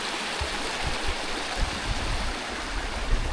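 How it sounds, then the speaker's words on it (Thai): A small natural stream that flows all year, used by villagers for bathing, washing and drinking, gives a steady, broadband rush of running water with soft low gurgles, close and continuous throughout. "แหล่งน้ำธรรมชาติแบบซี่นี่แม่นไหลตลอดปีเลยพี่น้อง"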